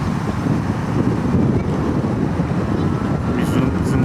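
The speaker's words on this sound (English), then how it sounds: "It's very windy here, guys" Strong wind buffets the microphone beside a park lake, a loud continuous low rumble with gusty surges throughout.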